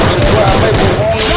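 Rapid gunfire in a fast-paced online shooter tournament match, dense bursts of shots running continuously and loud throughout, with some voices mixed underneath.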